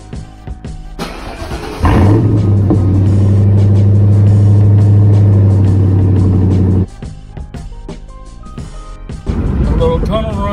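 A 2004 Ford Mustang GT cranks and cold-starts around two seconds in, settling into a loud, steady rumbling idle for about five seconds before the engine note drops. It revs back up near the end, with talking heard in the background.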